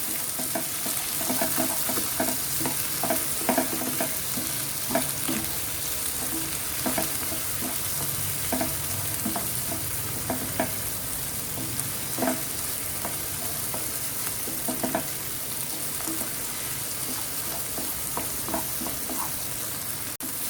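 Tomatoes fry and soften in a pan for misal pav, a steady close sizzle broken by frequent scraping stirs, with no talking.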